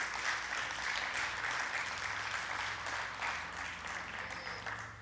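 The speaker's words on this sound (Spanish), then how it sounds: "¿Puedes darle un fuerte aplauso a nuestro Dios?" Church congregation applauding, a quiet, distant wash of steady clapping that holds evenly and fades slightly at the end.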